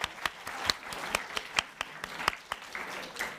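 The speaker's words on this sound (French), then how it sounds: "On peut l'applaudir." A small audience of participants applauds on a French science TV replay, sparse and fairly quiet, with individual distinct claps standing out at an irregular rhythm rather than a dense roar.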